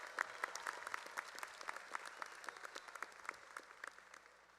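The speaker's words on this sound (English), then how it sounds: "have another warm round of applause for our excellent chorus" Applause for a high school chorus at a commencement ceremony held at Hard Rock Live: a large crowd claps continuously, with crisp individual claps standing out over a distant, even wash, fairly quiet overall.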